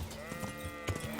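Sheep bleat in the medieval video game Kingdom Come: Deliverance, a few short, close calls repeating against a soft background hum.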